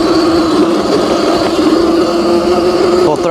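An Anyland Rev Pro auto-wheelie dirt bike riding off-road at full throttle, a loud, steady, close engine drone that holds one pitch and then cuts off abruptly.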